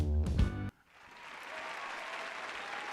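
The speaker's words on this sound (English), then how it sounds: "We're going to get some applause." A comedy club audience breaks into applause right after a brief stretch of speech, settling into a steady, dense clapping wash that holds evenly to the end.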